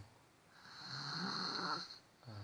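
A small child snores while asleep, one long raspy breath drawn in close and soft, with a second beginning at the end.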